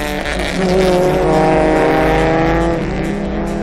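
Opel club race cars pull away at the start of a race, their engines droning loud and close in a sustained roar that climbs slightly in pitch, with no voices.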